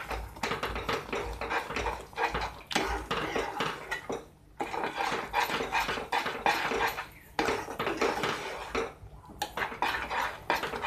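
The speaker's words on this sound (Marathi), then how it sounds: "व्यवस्थित मिक्स करून घ्यायचं आहे. साखरेच्या पाकात छान मिळून घ्यायचं आहे." Lemon paste stirred into sugar syrup in a metal pan for sweet lemon pickle, with rapid repeated spoon scrapes and clinks against the pan in bursts separated by short pauses, close and fairly loud.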